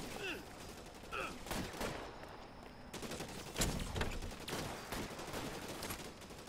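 Tommy gun fire in the video game L.A. Noire, a steady run of faint gunshots and short bursts under game ambience, with a few scattered louder cracks.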